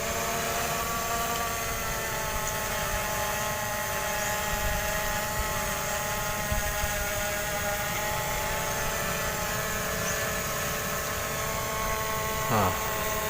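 MJX Bugs 12 EIS drone hovering with newly replaced propellers, a steady high whining buzz with rotor tones that holds unbroken throughout, near and fairly loud.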